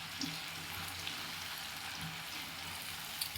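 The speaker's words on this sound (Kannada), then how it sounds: "ಸೊ ಇದು ಎಣ್ಣೆಲಿ ಚೆನ್ನಾಗಿ ಡ್ರೈ ಆಗಲಿ" Cauliflower gobi pieces frying in hot oil give a soft, steady sizzle and crackle throughout, faint and even, with no voices.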